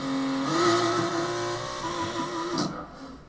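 Ford Focus engine in the Assetto Corsa racing game, a loud, close engine note that rises and holds as it revs, then cuts off briefly near the end.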